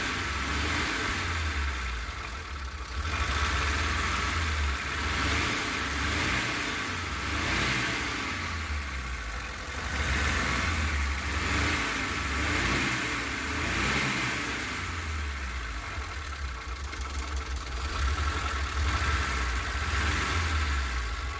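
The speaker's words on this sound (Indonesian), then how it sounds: "Ini untuk suara mesinnya bos" A 2006 Mitsubishi T120 SS minivan, a former Bandung public minibus, runs with a steady mid-pitched engine drone that swells and eases in gentle revs over about twenty seconds, heard close with no talk.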